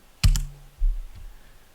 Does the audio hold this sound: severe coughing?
no